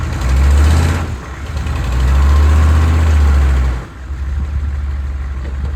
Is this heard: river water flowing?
no